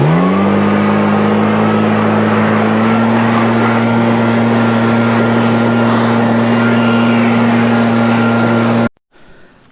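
A Husqvarna 580 BTS Mark II backpack blower runs at a loud, steady high idle with a strong, constant engine tone and airy rush, cutting off abruptly near the end.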